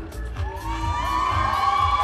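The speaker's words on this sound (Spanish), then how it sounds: "si vamos con un fuerte aplauso a Anet" A crowd cheers and claps at a dance performance, with a steady wash of cheers and whoops over a thumping low beat and tonal music throughout.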